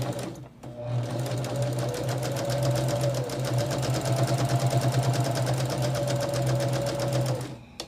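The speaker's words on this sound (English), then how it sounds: "I'm sewing a 1/4 inch" A sewing machine stitching quilt pieces with a quarter-inch seam runs steadily for about seven seconds, a fast even mechanical whir and needle chatter starting and stopping cleanly, close and clear.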